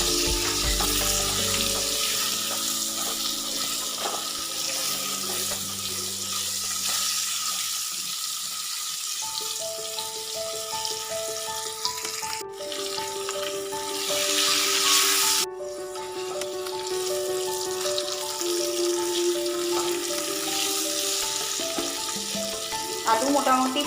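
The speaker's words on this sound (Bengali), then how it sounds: "দিয়ে এবার আলুগুলো সব ভেজে নেব।" Potato pieces seasoned with salt and turmeric fry in a pan for a Bengali fish curry with potatoes and cauliflower, giving a steady, close sizzling hiss throughout over soft background music.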